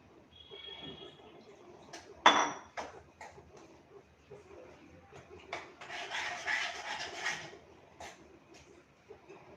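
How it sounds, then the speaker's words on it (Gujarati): Flour batter for khaman dhokla being stirred in a bowl, giving soft, uneven scraping and rubbing with a sharp clink near the start and a longer stretch of steady mixing later. "લોટને એકદમ સરસ મિક્સ કરી લેશું."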